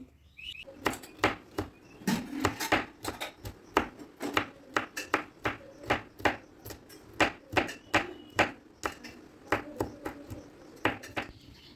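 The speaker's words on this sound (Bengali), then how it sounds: "পেঁয়াজের মতো করেই ক্যাপসিকামটাকে একেবারে ছোট ছোট করে কুচিয়ে নিতে হবে" Kitchen knife finely chopping capsicum on a board, a quick run of sharp, evenly spaced taps close by, with a few short pauses between bursts and no speech.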